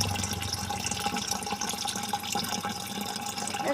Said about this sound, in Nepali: पानी भरिँदैछ गाइस मेरो बाल्टिनमा